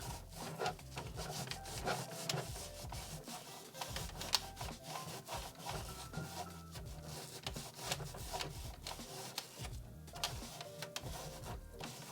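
The textured plastic grass of a 1996 vintage Polly Pocket Pollyville playset is scrubbed hard with a brush, giving close, quick back-and-forth rasping strokes that continue steadily throughout.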